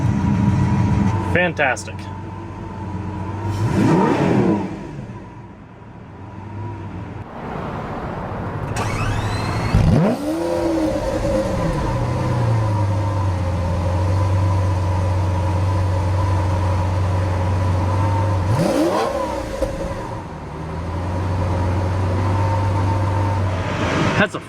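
A Lamborghini Aventador engine fires up with a brief whine and bark, then rises and falls in revs before settling into a low idle, with a voice speaking briefly.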